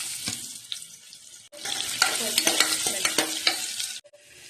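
Onions frying in oil with a cinnamon stick and a clove, stirred in the pan; a close, bright sizzle with scraping strokes, a brief quieter start and a sudden cut near the end, no voices.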